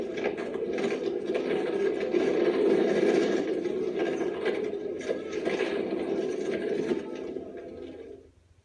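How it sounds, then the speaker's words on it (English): Roller skates roll steadily on a hard surface, with a continuous grinding whir that swells and fades slightly before stopping near the end. "That was the sound of roller skates."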